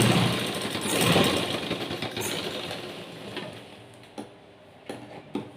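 Domestic sewing machine stitching a blouse seam, a steady mechanical whir up close that fades into quieter clicks and a few sharp ticks as the stitching stops.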